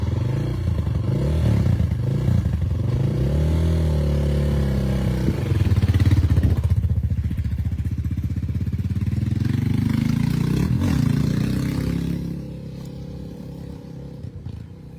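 A motorcycle engine running close by, a loud steady rumble that rises and falls in pitch as it revs, then drops off near the end.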